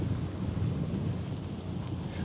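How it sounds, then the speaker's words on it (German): Strong gusts buffet the microphone outdoors at a harbour during the port anniversary festivities, producing a continuous low rumbling roar that fills the whole clip, with no speech. "Es ist zwar tierisch windig"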